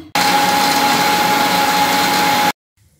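A kitchen blender purees green grapes with half a glass of water into juice, a loud, steady whirring roar that starts abruptly and cuts off after about two and a half seconds.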